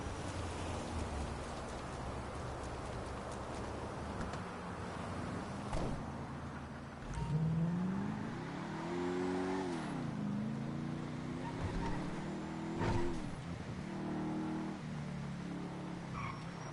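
A car's engine in a video game, droning low with a rising and falling pitch as it accelerates and shifts, over a constant rain-like hiss, moderately loud throughout.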